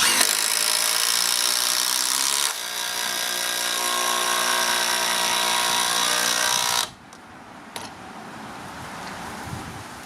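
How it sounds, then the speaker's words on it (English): Two 36-volt Milwaukee cordless drivers on 2.5 Ah batteries sink 14-gauge, 100 mm stainless steel 316 batten screws, a loud, steady, high-pitched whine that changes pitch partway, then cuts off sharply, leaving quieter handling noise. "We are going to drive 14 gauge, 100mm long, stainless steel 316 batten screws."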